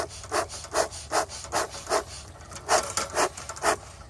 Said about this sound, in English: So I will put in a small handful of the pine shavings.